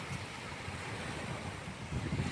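Steady wind rushes and buffets the microphone outdoors, a constant broadband roar with low gusty rumbles and no voices.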